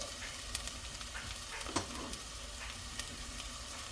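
Celery goes into a pot for Italian wedding soup and sizzles softly, with a few faint clicks of stirring over a steady quiet frying hiss.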